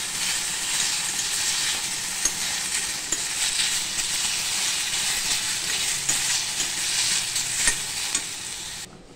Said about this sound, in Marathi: हे टोमॅटो सुद्धा आपण थोडंसं परतवून घेणार आहे